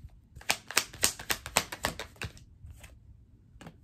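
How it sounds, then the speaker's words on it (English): Tarot cards are pulled from a deck one after another, making a quick series of close, crisp snapping flicks that thin out into a few scattered slides. "Let me just pull all the cards before I start yapping."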